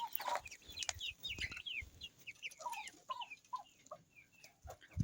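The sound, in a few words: Turkish Shamo roosters clucking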